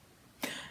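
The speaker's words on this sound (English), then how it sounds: "So rather than keep coughing at you" A single short cough from a person close to the microphone, sharp at the start and trailing off into a breathy rasp.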